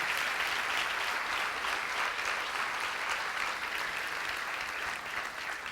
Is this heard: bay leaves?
no